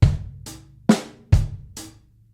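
Up close, a drum kit runs through a short syncopated break of bass drum kicks, a crisp snare accent and quieter hi-hat strokes, about five hits that decay quickly into silence.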